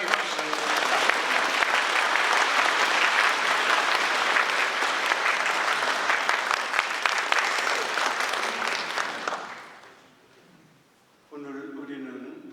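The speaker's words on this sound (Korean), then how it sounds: "주교회 의장 이용훈 마티아 주교님께도 뜨거운 환영의 박수를 부탁드립니다" Congregation at a Catholic thanksgiving Mass applauds warmly to welcome the bishops' conference president, Bishop Lee Yong-hoon Mathias; steady dense clapping fills the church for about nine seconds, fades away, then a brief spoken voice follows.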